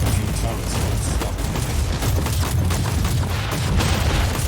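Turret guns in Warhammer 40,000: Inquisitor pour out a loud, dense stream of shots and booming impacts, steady and close, with a voice talking over the barrage.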